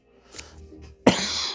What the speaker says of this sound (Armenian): Կներեք, որ հազվում ժողովուրդ ջան